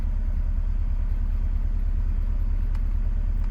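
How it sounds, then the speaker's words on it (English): A Mercedes C-Class W204 with a faulty transmission conductor plate runs at a steady low idle throughout, a constant engine rumble with no voices. "I'm just gonna try start it up, see if it engages with the transmission"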